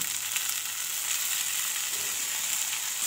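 Mustard greens dropped into onions frying in a pan give a steady, loud sizzle that holds evenly throughout, with no talking.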